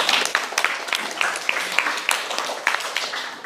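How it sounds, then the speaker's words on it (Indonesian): Classroom audience at a science lesson gives scattered applause, individual claps standing out in an uneven, moderately loud patter over a few seconds. "beri tepuk tangan"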